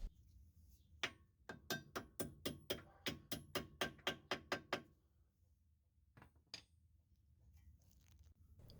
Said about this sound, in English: Now we can tap in the rest with the hammer.